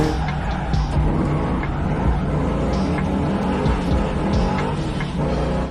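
Race car on a hillclimb course, loud and close, its engine roaring continuously as it accelerates through the gears, with some tire scrub and no speech.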